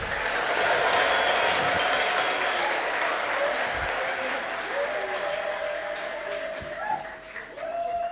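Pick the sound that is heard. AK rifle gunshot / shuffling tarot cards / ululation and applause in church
ululation and applause in church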